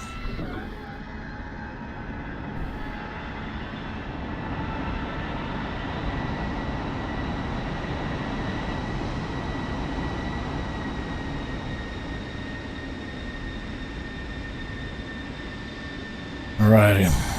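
An F-16 engine winds down after its throttle is secured in the DCS World game, a steady broad jet roar with faint high whine lines holding for a long stretch before a brief louder burst at the end.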